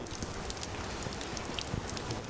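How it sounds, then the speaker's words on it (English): Rain falls around a covered stone archway in Vietnam. It makes a steady, dense hiss with scattered close drips and patters. "Everyone's hiding from the rain under this covered archway."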